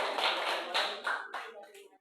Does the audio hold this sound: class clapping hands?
yes